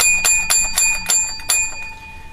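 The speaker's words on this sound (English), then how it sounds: "Seven bells for my co-host and mentor." A bell like a bicycle bell rings seven times in a quick, bright, evenly spaced series, close and loud, with its metallic ring fading after the last strike.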